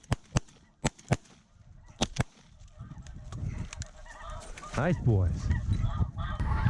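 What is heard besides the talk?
snow geese honking as they fly in during a hunt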